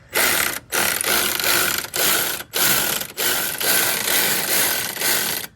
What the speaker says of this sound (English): Next is take the V-band clamp off from where the turbo is.